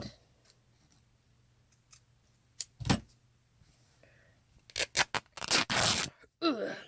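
Paper for a junk journal is trimmed with scissors, a series of crisp snipping and rustling cuts that bunch together toward the end, fairly close and otherwise quiet.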